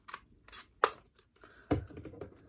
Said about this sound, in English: All you have to do is cut a little bit off the top.